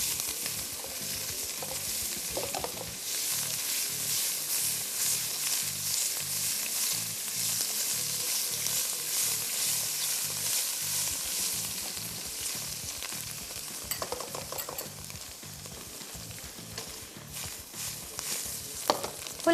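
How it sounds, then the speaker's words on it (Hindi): Mushrooms and onions sauté in a pan, with a steady close sizzle under repeated scraping and stirring strokes and occasional louder clatters, no talking. "अब इसमें मैं डाल रही हूँ मशरूम्स। अब इकट्ठे सौते करेंगे हम।"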